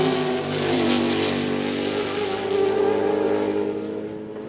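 Race cars roar past at the Sebring twelve-hour race, among them the 4-rotor Mazda Kudzu, a loud rising then fading engine drone with a high whining tone, heard without commentary.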